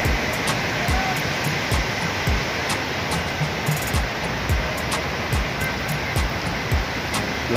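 Mountain stream water in rural Bikol, Philippines, rushing close by in a constant broadband wash with faint splashing ripples, steady throughout and heard alone without talk.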